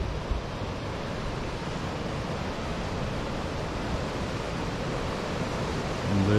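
Water pours steadily over a weir on the Little Ouse river, a dense, continuous rushing wash heard close and loud without pause.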